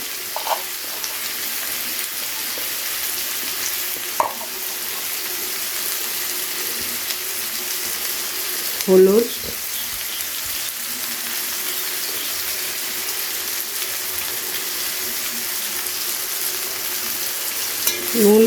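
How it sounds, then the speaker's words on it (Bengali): Onion and tomato fry with salt and turmeric for a fish-head chhyachra, a steady, even sizzle close by with occasional scraping of a spoon stirring the pan and a few brief knocks. "হলুদ দিয়ে একবার ভালো করে আবারও পেঁয়াজ আর টমেটোকে ভেজে নেবো"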